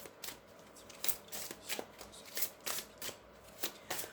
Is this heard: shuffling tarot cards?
yes